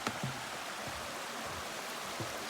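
Water of a creek or small waterfall flows beneath a small bridge near a Lake Superior beach, a steady broadband rush heard close and continuous, with no talk over it.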